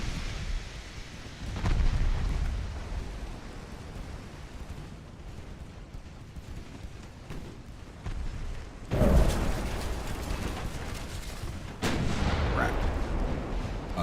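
Naval guns fire salvos in Ultimate Admiral: Dreadnoughts during an 1890 French fleet battle, three heavy rumbling booms spaced seconds apart, each with a long low rolling tail over a continuous background roar.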